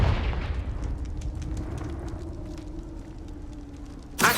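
A Confringo blasting spell bursts in Hogwarts Legacy, a single loud explosive boom that decays into a rumbling tail, with a sharp new crack right at the end.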